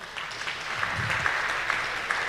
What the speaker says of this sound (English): Give these people a warm applause because they traveled very far.